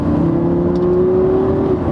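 A Lamborghini Gallardo LP550-2 Balboni, mid-engined Italian supercar, accelerates hard, its engine giving a loud, steady rising drone at close range with no voices over it.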